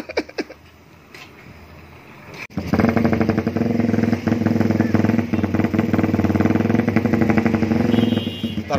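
A Honda CB150R with a custom lightened stock exhaust starts up after a quiet opening and settles into a loud, close, steady idle with a throbbing beat, with no talk.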